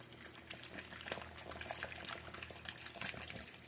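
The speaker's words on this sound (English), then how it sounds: "I'm going to add just a little bit more water" Water poured into a slow cooker holding chicken thighs, potatoes, carrots and onion for broth, a steady soft splashing trickle heard close and alone.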